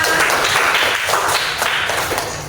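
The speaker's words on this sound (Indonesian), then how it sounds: "Main tepuk tangan untuk Meda" Applause from a class of teachers in a peer-teaching training session at a junior high school, clapping for a student presenter. The sound is a steady, dense wash of many hands that stays even throughout.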